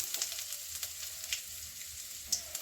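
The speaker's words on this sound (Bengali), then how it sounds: "এগুলো আমি একটু হালকা ভেজে নিচ্ছি" Peanuts, dried chilli, ginger, cumin and fennel frying lightly in a pan for a cauliflower dish, giving a soft, even sizzle with small crackles and pops, close by and fairly quiet, with no talking.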